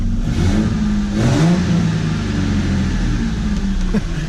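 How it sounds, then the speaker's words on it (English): A Ford Mustang engine with an exhaust leak revs briefly, rising then settling into a rough, loud mid-pitched growl for a few seconds with no talking. "she's got an exhaust leak"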